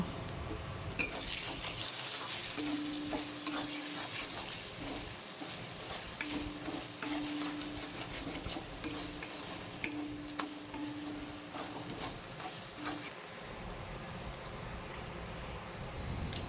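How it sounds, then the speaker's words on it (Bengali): Fish curry of loitta (Bombay duck) being stirred in a pan with dried chilli powder and cumin-coriander powder, a soft steady sizzle with repeated scraping and clicking spatula strokes, close by and without speech. "শুকনো লঙ্কার গুঁড়ো আর জিরে ধুনের গুঁড়ো দিয়ে এবার ভালো করে মিশিয়ে নেব"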